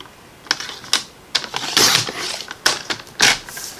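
Card stock being cut down to size on a paper trimmer for a handmade greeting card, a series of crisp clicks and short slicing swipes, close and fairly loud, with no talking.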